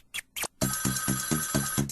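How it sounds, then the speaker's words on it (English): Telephone ringing in a comedy skit: a repeated electronic ring pattern with steady tonal bursts, loud and close, preceded by two brief voice-like sounds. "Pick up the phone!"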